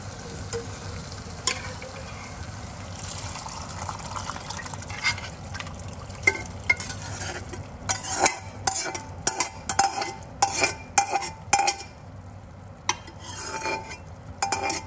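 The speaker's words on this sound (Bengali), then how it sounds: "আমি এখন মটর ডালটা মিলিয়ে দেবো সব।" Dried pea dal is stirred into hot oil and masala for ghugni, giving a steady close sizzle with wet scraping and stirring strokes that grow louder and more frequent toward the end.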